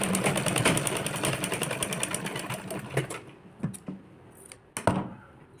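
Sewing machine stitching blouse fabric, a steady rapid whirring run for about three seconds that slows into a few separate clunks as it stops.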